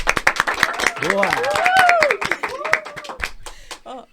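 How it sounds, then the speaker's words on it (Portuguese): An audience claps loudly and steadily for a guest on a Portuguese-language talk show, close and sustained for about four seconds. A host speaks over the clapping and a voice calls out briefly. "Vou pedir então para vocês uma salva de palmas para ele"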